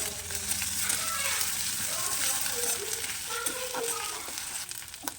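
Ginger paste frying in a pan for a banana flower chop gives a steady, fairly quiet sizzle with light stirring scrapes, and a voice speaks over it now and then.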